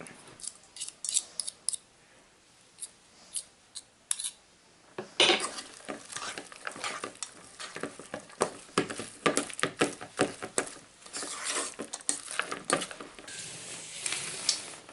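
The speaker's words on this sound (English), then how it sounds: "going to add our cheese in here. And then we'll mix it up." Cheese filling for jalapeno popper stuffed pork chops being mixed in a bowl, uneven scraping and clinking strokes of a utensil that start quietly, then turn louder and busier from about five seconds on, with no talking.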